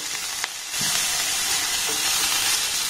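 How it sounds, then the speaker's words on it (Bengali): Chili and onion frying in a pan with a steady, loud hiss and sizzle that rises after a short quieter start, with faint stirring scrapes underneath. "এবার লঙ্কা আর পেঁয়াজটাকে একটু ভালোভাবে নাড়াচাড়া করে ভেজে নেব।"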